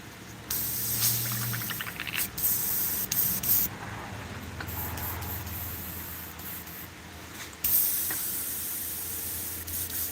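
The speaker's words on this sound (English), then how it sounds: "Just doing some stuff to get the airbrush cleaned out." An airbrush being cleaned out sprays in repeated hissing bursts of varying length, close and fairly quiet, with brief pauses between blasts.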